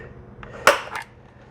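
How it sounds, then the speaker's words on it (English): An automatic center punch gives a single sharp metallic snap, brief and close, followed by a faint second click in a quiet room. "So this is just an automatic center punch"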